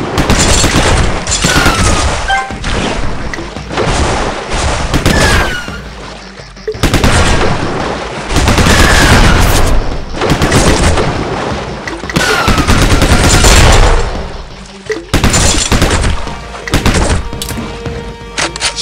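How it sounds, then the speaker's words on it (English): Machine gun fire in the Ramboat 2 video game, loud sustained bursts of rapid gunshots with heavy booms, stopping briefly between volleys. "Machine gun!"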